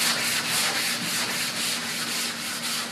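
Fiberglass is wet-sanded by hand with 320 grit paper wrapped on a foam block, a steady close rasping rub repeating in quick even strokes with no voices.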